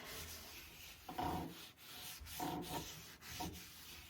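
Brisk rubbing and scrubbing of a surface being wiped clean, several short strokes in an uneven rhythm, close and fairly quiet.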